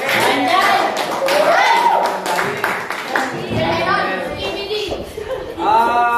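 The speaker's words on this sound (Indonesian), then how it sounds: "teman-teman, tepuk tangan untuk Rizky" Students in a classroom clap for a classmate, a scattered burst of hand claps and taps mixed with children's chatter and chuckling, fairly loud and close.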